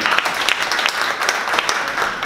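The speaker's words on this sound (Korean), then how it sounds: "박수로 환영해 주시면 감사하겠습니다." Loud, dense applause from a forum audience closing a panel discussion on plastics, a continuous wash of many hands clapping with no voices over it.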